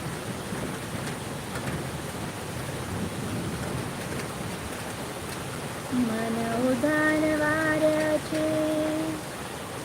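Heavy rain falls in a dense, even roar, with a sustained horn-like tone rising near the end, and no clear voices.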